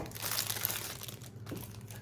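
Plastic packaging around Baofeng UV-5G Plus GMRS radio parts crinkles and crackles close by as it is unwrapped, a continuous rustle with a few sharper crackles.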